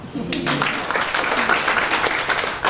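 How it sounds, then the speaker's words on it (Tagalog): Audience applause in a crowded venue during a live talk, a dense steady wash of clapping filling the whole moment, loud and close with a faint murmur of voices mixed in. "palakpak."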